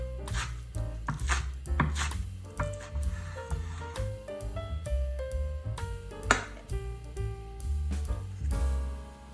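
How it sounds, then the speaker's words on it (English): A knife finely chops green onions on a board with quick, irregular taps, clusters of cuts close together, over a bed of soft background music. "Five grams of green onions, finely chopped."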